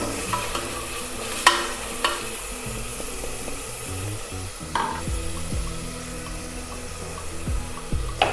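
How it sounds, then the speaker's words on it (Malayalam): Onion and carrot frying in a pan are stirred with a spatula, giving steady sizzling and scraping strokes with a few sharper clinks, close and clear, with no talking. "അതൊന്ന് നന്നായിട്ടൊന്ന് മിക്സാക്കി കൊടുക്കാം"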